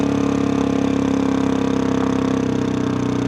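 A lightweight adventure motorcycle's engine runs loud and close in a steady drone with a fast pulsing beat, held at an even pitch without clear revving.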